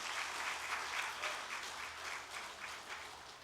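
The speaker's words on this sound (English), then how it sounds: "Please give our chief guest a huge round of applause" Sustained audience applause from a large crowd at an international infrastructure conference closing session, dense steady clapping with no voices over it, fairly faint and distant.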